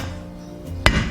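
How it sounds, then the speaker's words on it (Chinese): A knife blade comes down once on garlic cloves to crush them, a single sharp thump on a board near the end after a quiet stretch. "准备几个大蒜，先拍碎"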